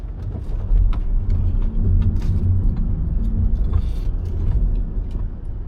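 A car is driven into a heated garage on a frozen Arctic winter day, its engine a steady, loud, close rumble that holds throughout with a few faint clinks on top.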